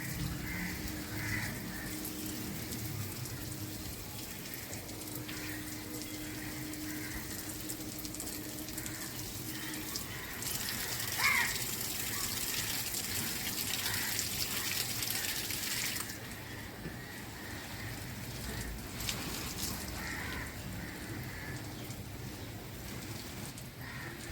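Water sprays steadily over rooftop garden plants during hot weather, a continuous hiss like rain that swells louder and brighter in the middle, with no talking.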